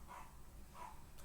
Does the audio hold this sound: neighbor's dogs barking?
yes